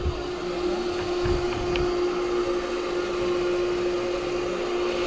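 A loud, steady engine drone with a constant mechanical hum, running continuously and close by without pause.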